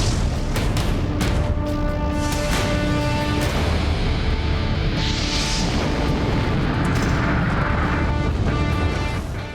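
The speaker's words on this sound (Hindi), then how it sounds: "फिर एक धमाका हुआ और सब तबाह हो गया।" Dramatized explosion effect of an atomic bomb blast, a sustained low rumbling roar with booming bursts and crackling debris, loud and continuous throughout with a droning, aircraft-like hum layered over it.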